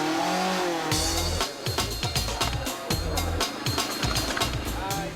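A Ford Escort MKII rally car blasts along tarmac in a 2006 Irish rally challenge. The engine cuts in abruptly and roars loud and close, with rapid rev changes and sharp gearshift bursts.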